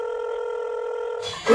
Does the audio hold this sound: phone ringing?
yes